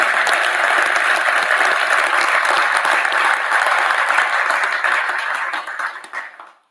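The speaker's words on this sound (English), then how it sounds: "I think that deserves a round of applause for us." A crowd at a downtown Rotary club gathering claps in loud, dense, sustained applause for several seconds before it quickly fades out.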